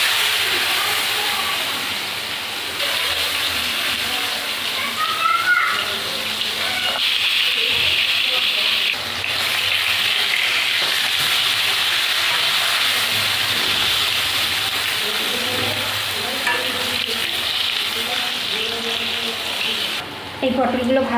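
Pointed gourd pieces coated with salt and turmeric fry in hot oil in a wok, giving a steady, dense hiss that runs the whole time with small crackles and faint background voices.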